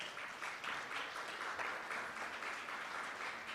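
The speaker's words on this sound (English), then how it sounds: "Give them a round of applause." A live-streamed audience at a Jamaican national certification event claps together, a soft, distant patter of applause that pulses unevenly and holds for a few seconds without speech.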